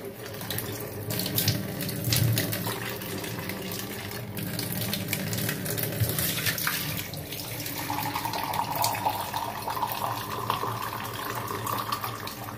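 Steady water running from a household tap into a container, continuous and fairly close, with the pitch of the flow rising slightly as it fills.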